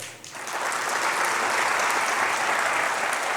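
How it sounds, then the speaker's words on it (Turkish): Sustained audience applause at a gala concert for a folk-song book, a dense steady wash of clapping that swells within the first half-second and holds at full strength throughout. "can yürekten alkışlıyor"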